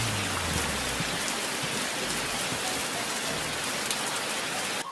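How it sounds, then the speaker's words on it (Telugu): Heavy rain pours down in Hyderabad, a dense, constant hiss of drops striking surfaces, loud and even from start to finish with no voices. "సుమారు ఒక వారం నుంచి నాన్ స్టాప్ ఆ రాష్ట్రవ్యాప్తంగా భారీ వర్షాలు కురుస్తున్నాయి"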